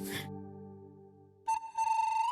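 A mobile phone ringtone sounds after a brief burst of noise, a sustained tonal melody that rises in loudness and rings on steadily near the listener with no talking.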